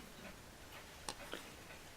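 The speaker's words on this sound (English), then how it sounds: "One of my clocks chiming." An old clock ticking softly in a quiet room, with a couple of faint, brief sharp ticks standing out; no clear chime rings out.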